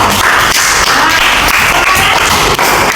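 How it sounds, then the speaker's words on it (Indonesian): A school class bursts into loud, dense applause, many hands clapping together steadily and close for the full stretch with no voices. "tepuk tangannya untuk semua kalian"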